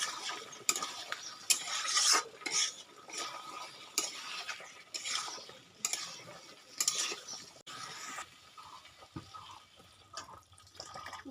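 A utensil stirs chicken curry with eggplant in a pan with splashes of water, giving repeated scraping, wet swishes in an uneven rhythm, close and moderately loud.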